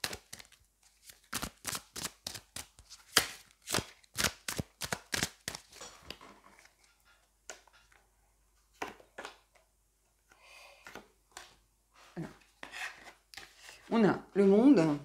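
Tarot cards are handled and drawn from a deck in a series of quick, close rasping snaps and shuffles, a dense run at first, then sparser flicks and slides with a louder rustle near the end.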